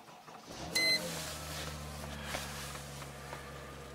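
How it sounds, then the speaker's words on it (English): A Citroen 2CV's small engine starts, a brief electronic beep followed by a low, steady idle hum that settles and continues at moderate level, close by in a quiet setting. "Let's start it up."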